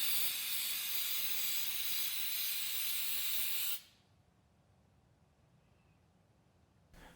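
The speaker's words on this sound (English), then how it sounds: "you might want to coat your metal with 2 coats of this Everbright spray" An Everbright protective spray coats metal in one continuous, loud, close aerosol hiss lasting nearly four seconds, then cuts off abruptly to quiet room noise.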